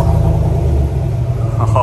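Chevrolet Silverado engine at full operating temperature, running with a muffler delete and factory exhaust tips: a loud, steady, deep exhaust rumble at idle, heard close up, with a voice over it.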